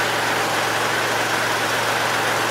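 A tractor engine runs steadily while a backhoe attachment is lifted, with a loud, constant low-pitched drone and hum, no speech.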